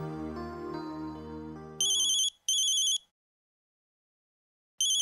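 A phone ringtone sounds in a Marathi TV serial, a short musical phrase followed by two bright electronic ring bursts and a third starting after a pause, loud and alone.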